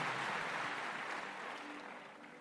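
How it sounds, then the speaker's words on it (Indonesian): A church congregation applauding during a worship service, a steady wash of clapping from a crowd that holds at moderate level and slowly fades, with no talk over it. "Come on, give the Lord a big Beri hand."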